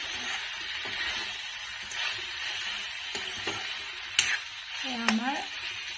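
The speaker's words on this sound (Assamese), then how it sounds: "এতিয়া লাহেকৈ চিকেনখিনি দি দিলে। ধুনীয়াকৈ লৰাই পুৰা হোটেলৰ নিচিনাই হৈ গৈছে।" Chicken for a dry chilli chicken fry is stir-fried in a pan with a soft steady sizzle, broken by scattered clicks and scrapes of the spatula and a brief chirp near the end.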